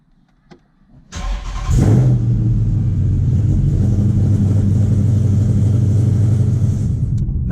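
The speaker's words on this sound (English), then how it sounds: "show you all my own vehicle, Super Blue 392" A custom Dodge Charger Super Blue 392 fires up after a quiet moment, gives a sharp rev, then settles into a loud, steady, deep V8 rumble as it pulls away and keeps driving.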